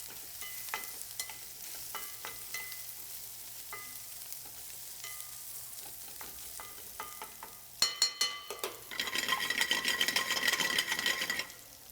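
Dried chilies toast in a hot pan with light crackles and scattered taps of stirring, then a louder, dense sizzle builds near the end as they hit the pan with shallots.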